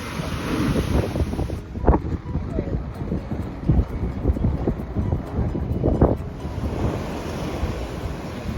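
Ocean waves washing onto a beach in Palma, Spain, a steady broad surf roar with gusts of wind buffeting the microphone and a couple of louder wave surges.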